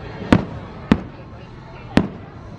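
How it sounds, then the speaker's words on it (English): Fireworks bursting over Magic Kingdom at Walt Disney World, three sharp booms spaced unevenly over a low background murmur, moderately distant. "I love watching the fireworks from different attractions, and this was a first for the jungle cruise."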